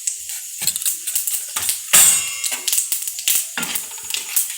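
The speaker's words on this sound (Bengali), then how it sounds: "ভালো করে নাড়াচাড়া করে নিলাম 5 ফোড়নটা" Panch phoron spices, mixed whole seeds, fry in hot oil in a pan while a utensil stirs them, giving crackling sizzle and scraping, clinking strokes at an uneven rhythm; no talking.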